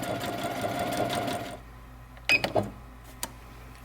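Sewing machine top stitching fabric: a steady mechanical whirring run that stops abruptly, followed by a few small clicks and taps of the machine.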